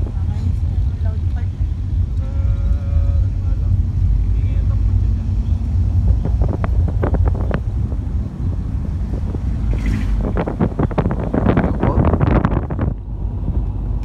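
A Toyota Wigo climbs the winding Bitukang Manok mountain road near Atimonan with a steady, loud low engine drone under heavy wind buffeting, while people inside talk in bursts over the engine later on.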